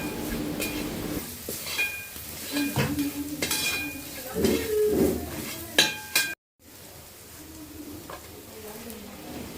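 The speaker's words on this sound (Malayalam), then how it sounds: "അതുകൊണ്ട് നന്നായിട്ട് ഇളക്കി കൊടുക്കുക" Ginger garlic paste is stirred in a pan for a Kerala chicken curry: close scraping and clattering spoon strokes over a light sizzle, broken by a brief silent gap before the stirring goes on.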